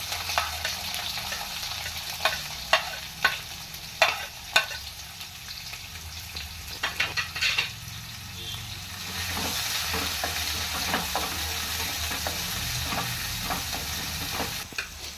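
Chopped onions frying in a pan for a carrot fry, a steady sizzle with sharp clicks and clatters of the spatula early on, the frying hiss swelling louder in the second half.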